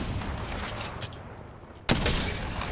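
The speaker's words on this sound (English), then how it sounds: "Listen up, I'm getting shot at." Gunfire in the Apex Legends battle royale game: a dense run of shots rattles for about two seconds, a brief lull follows, then a sharp, louder burst kicks in and keeps going.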